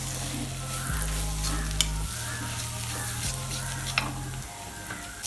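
Kerala-style egg roast masala with fennel powder and garam masala frying in a pan, giving a steady close sizzle with occasional scraping stirs and a low hum underneath.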